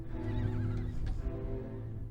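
Wild Kaimanawa horses neighing, one loud, close, drawn-out whinny that rises and shakes before trailing off, with faint hoof clops beneath.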